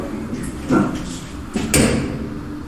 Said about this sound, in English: Push the door on and it doesn't all close all the way.